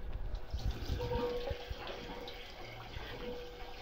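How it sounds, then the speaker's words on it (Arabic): Water poured into a water heater tank during descaling, a soft continuous trickle and gurgle, faint and close, with some low clunks early on and no talk. "هنبدأ نديها شوية مية تاني"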